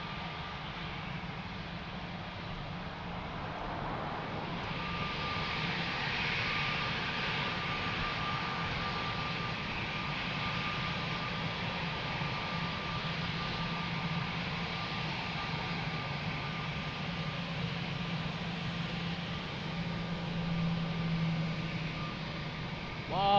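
A jet airliner departs Lisbon Airport with a steady, broad engine roar that swells slightly and holds for a long stretch, heard from a distance.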